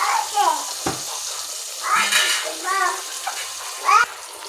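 Masala-coated eggplant pieces dropped into hot oil in a kadai, crackling and sizzling in bursts with a few sharp clicks, while someone talks over the frying.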